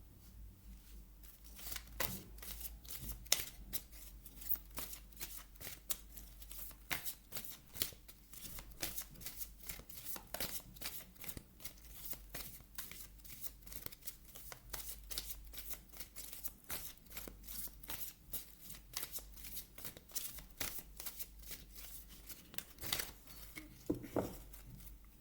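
Oracle cards from a wisdom-wings deck are shuffled at a steady pace, making soft, continuous riffling and flicking sounds. The shuffling is quiet and close, with no talk over it.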